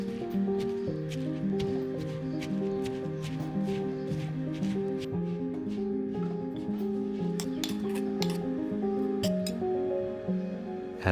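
Soaked sticky rice is pounded for a bamboo soup, giving a run of sharp, repeated knocks and clinks against a mortar, steady but fairly faint beneath a tune.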